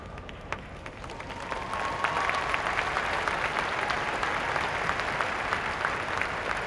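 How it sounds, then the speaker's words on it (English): A large crowd at Crufts 2001 claps steadily and loudly throughout the Terrier Group judging, a dense, unbroken wall of applause with a few sharper claps standing out. "I'm going to ask all of you to make that extra effort to clap and cheer"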